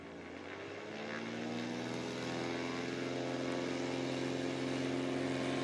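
STOL airplane's propeller engine throttles up on a short takeoff roll at a mountain STOL competition, a droning buzz that rises in loudness and pitch over the first seconds, then holds steady, heard from a moderate distance.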